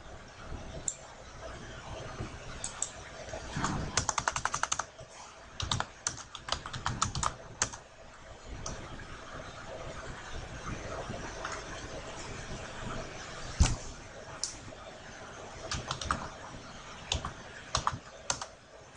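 Computer keyboard keys clatter close by in irregular bursts of quick typing with short pauses between, heard alone without talk.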